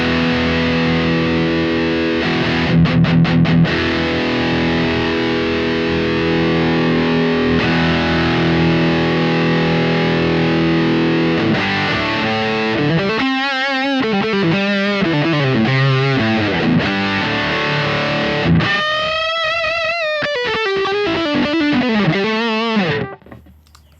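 Distorted lead guitar tone through a Laney Ironheart amp plugin, opening with sustained saturated chords and rapid picking, then moving into wailing single-note lead lines with vibrato and bends, loud and up front with no speech.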